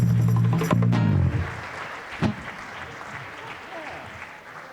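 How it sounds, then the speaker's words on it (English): Concert audience applauding after a live performance, the clapping following a loud sung or played note and then settling into a steady, moderately dense patter that fades slightly toward the end. "yourselves a round of applause. You passed with flying colors."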